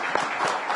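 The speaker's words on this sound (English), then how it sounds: "Let's have a huge round of applause, ladies and gentlemen, for that wonderful discussion" Brief burst of audience applause after a panel discussion at a live-streamed industry event, a soft, even patter of many hands heard only for a moment.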